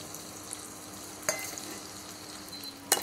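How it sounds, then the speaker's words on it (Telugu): Chopped onions and green chillies with cumin frying in a pan for a jackfruit seed curry, a soft steady sizzle with a couple of sharp clinks of a spoon stirring against the pan. "ఆనియన్స్ కొద్దిగా బ్రౌన్ కలర్ వచ్చేంత వరకు ఫ్రై చేసుకోవాలి."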